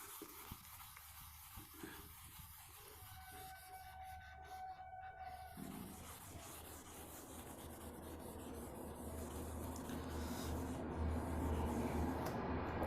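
An eraser rubbing out a drawing on a printed map of India: a soft, steady scrubbing that starts about halfway through and grows slightly louder, with no talk.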